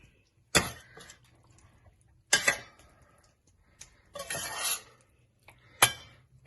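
Meatballs and salad ingredients being mixed in a dish, with several sharp clinks and scrapes of a utensil against the bowl at irregular intervals, close and fairly quiet, no talk.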